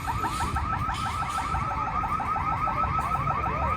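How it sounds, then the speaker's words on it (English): A car alarm sounds nonstop near the White House in Washington, DC, cycling a rapid warbling electronic tone in quick repeating sweeps, steady and fairly close, with no voices over it. "An alarm again."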